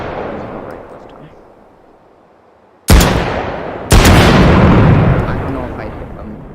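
A Desert Eagle .44 Magnum fires two booming shots in the H3VR virtual reality game, about a second apart, each loud and close with a long, rumbling reverberant tail.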